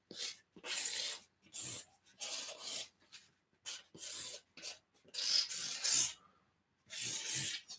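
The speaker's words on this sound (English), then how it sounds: "Pen sounds awful." A pen scratches across the back of a Band-Aid in short bursts of dry, raspy rubbing, about ten strokes with brief pauses between them, close up and faint.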